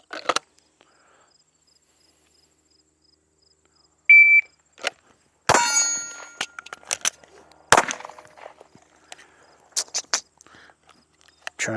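Pistol shots from a Glock with aftermarket magazines during a timed drill: after a quiet stretch and an electronic timer beep, a string of sharp, loud, close reports with short gaps between them.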